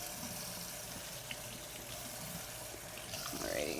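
Tap water sprays steadily at close range while the roots of a freshly repotted houseplant are rinsed under it, a constant rushing flow with no pauses.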